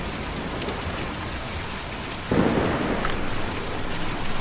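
Steady heavy rain pours in Kentucky Route Zero, with a low thunder rumble rolling in midway and swelling before fading back into the downpour.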